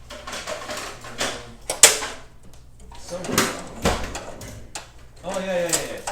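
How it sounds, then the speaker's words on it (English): Drawers being pulled open and rummaged through while clearing out old computer case parts, with scattered wooden-sounding knocks, slides and clatter at close range, and a person talking intermittently between the bumps. "We're just pulling out all of the old stuff out of the drawers today."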